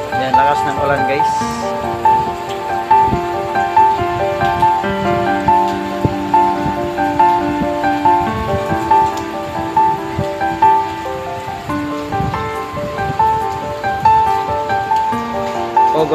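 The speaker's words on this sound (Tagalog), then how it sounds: "Ayan, lakas ng ulan guys." Heavy typhoon rain falls in Metro Manila, a steady close hiss of drops on surfaces that holds at an even level the whole time, with faint tonal hum in the background.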